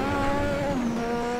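Lotus 98T turbocharged Formula 1 engine revs hard at Spa Francorchamps in Assetto Corsa, a dense, loud buzzing drone with a pitch that shifts as the gears change, heard alone.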